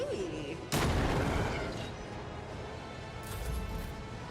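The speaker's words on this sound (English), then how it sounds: "I could throw a grenade now." A grenade explodes in Warhammer 40,000: Rogue Trader with one sudden heavy boom. A rumbling roar follows and fades over several seconds, and faint game tones can be heard at the start.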